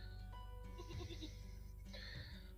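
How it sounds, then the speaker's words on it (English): A baby goat bleats a few times in quick, wavering cries, close but faint, with a low hum underneath on a farm beside a chicken coop. "I got a baby goat nibbling on my ankles and stuff down here."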